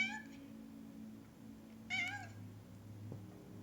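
A domestic cat named Hermès meows indoors, a short plaintive call near the start followed by a clearer, louder wavering meow around the middle, over a steady low hum.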